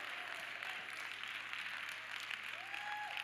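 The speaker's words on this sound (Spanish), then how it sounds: "Los de este lado están aplaudiendo" Church congregation applauding in a continuous, fairly distant wash of clapping under a low room hum, steady in level with a faint tonal sweep near the end.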